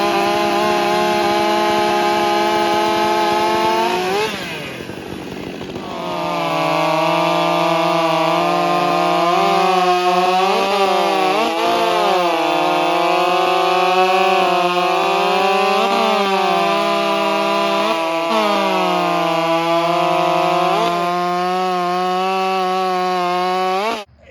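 A Stihl MS400 chainsaw bucks firewood, its loud high-pitched engine whine holding steady at full revs, dipping briefly near the start before climbing back and wavering slightly under load throughout, with no voices.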